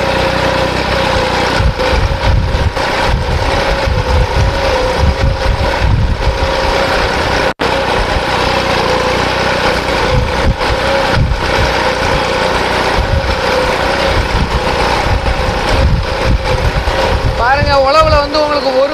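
A tractor pulls a hydraulic 3-disc plough through a field in high first gear. Its engine drones loudly and steadily up close, with someone talking over the continuous rumble.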